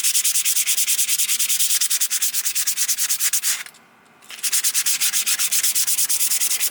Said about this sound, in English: Grab the brake pads, and on the brake surface sand it down, remove all the fine dust.